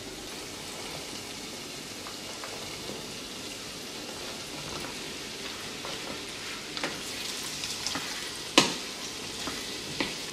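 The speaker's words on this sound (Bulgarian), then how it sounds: "добавям и нарязаните тиквички и ще запържвам така за около още 6-7-8 минутки" Chopped onion and zucchini frying in a pan, a steady close sizzle with occasional scrapes and clatters of stirring, growing slightly busier toward the end with no talking.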